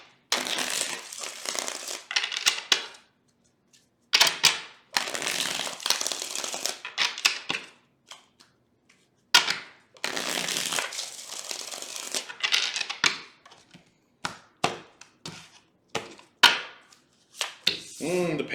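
Tarot cards are shuffled in repeated close, crisp bursts of riffling and rustling, each lasting a couple of seconds with short pauses between, followed by scattered individual card flicks and slaps.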